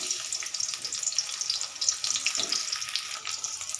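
Chopped onion sizzles and crackles in hot mustard oil in a wok, a steady close hiss with scattered pops and no voices.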